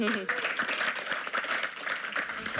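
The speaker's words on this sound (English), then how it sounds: "a big round of applause for all the winners tonight." An in-person audience at a tech awards ceremony claps for the winners, a brief burst of crowd applause with some voices mixed in.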